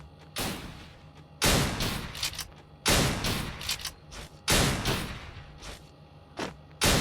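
Four heavy shotgun blasts in a lawn-wolf shooter game, evenly spaced about every one and a half seconds, each loud, sharp and followed by a brief rattling tail, with a last shot at the very end.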